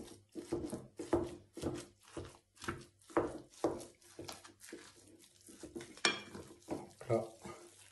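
Stirring stuffed tomato filling dressed with olive oil, a spoon scraping and clacking against the bowl in a steady rhythm of repeated strokes, close and moderately loud, with no voice over it.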